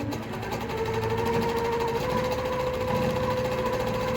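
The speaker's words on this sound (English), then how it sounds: "since I'm working on a quilting machine, I'm working on the Baby Lock Regent" A Baby Lock Regent quilting machine stitches a free-motion all-over heart design, giving a steady, loud, continuous mechanical whirr with a rapid needle rhythm and a low motor hum throughout, with no talking.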